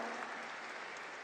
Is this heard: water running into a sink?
no